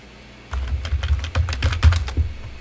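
Someone types on a computer keyboard while entering a Linux terminal command, a quick close run of crisp key clicks with irregular rhythm after a brief quiet start.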